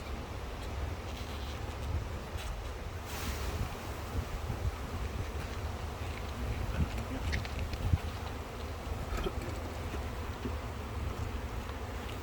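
Honey bees hum around an open hive during a winter pack-down, a steady low droning buzz with faint rustling and occasional knocks, no one talking.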